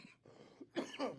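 A person's coughs, three short hacking bursts spaced through the moment, close and fairly quiet, with a somewhat louder double cough near the end.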